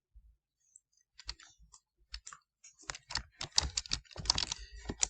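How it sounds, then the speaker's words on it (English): Fingers typing on a computer keyboard during a document practice drill: sparse, close key clicks at first that quicken into a busy, irregular run of taps, with no voices. "I need to type in Jones"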